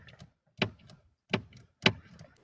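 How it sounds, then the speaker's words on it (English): A cat paws at a window, making three sharp, evenly spaced taps against the glass in a quiet room. "That cat just steady pawing at that window trying to get out."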